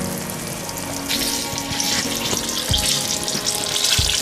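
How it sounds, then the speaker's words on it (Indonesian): Eggplant frying in oil over high heat, a continuous crackling sizzle with bubbling pops, close and fairly loud, no voices. "Kita goreng sampai terasa renyah dan gurih."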